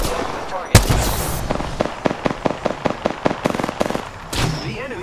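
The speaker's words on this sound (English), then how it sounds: "The enemies are shooting at me." Enemy gunfire in the battle royale shooter Apex Legends: a sharp blast followed by a rapid series of about a dozen cracking shots in quick rhythm, then another burst, with a faint voice underneath.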